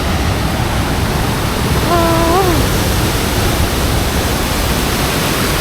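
A waterfall in a scenic natural setting gives a steady, loud, broadband rush of falling water that fills the whole clip, with a brief warbling bird-like call rising over it near the middle.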